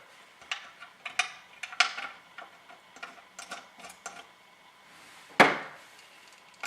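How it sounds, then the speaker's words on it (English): A screwdriver drives screws into a console mount, giving a run of close, sharp ticking clicks and scrapes with one louder knock near the end. "I'm just using a screwdriver for ease of demonstration here."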